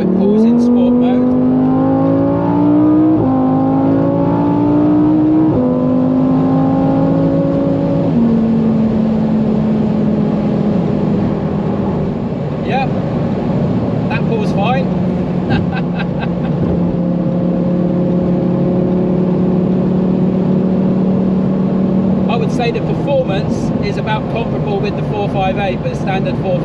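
A Lamborghini Huracan Performante accelerates hard in sport mode, its loud engine note climbing in pitch through several upshifts, heard from inside the cabin with occasional crackles and a voice talking over it.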